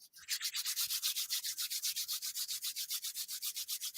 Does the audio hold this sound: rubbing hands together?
yes